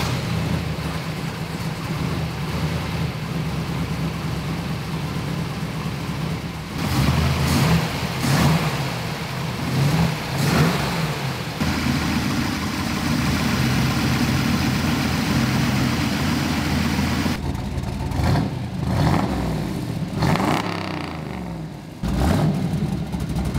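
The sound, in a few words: first-gen Camaro engine starting and running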